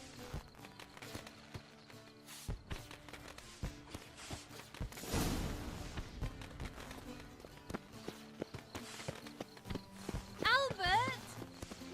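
Horse hooves clip-clop in The Witcher 3 video game, a steady rhythmic trot running through most of the stretch beneath game music and a bright swell, with voices speaking over it.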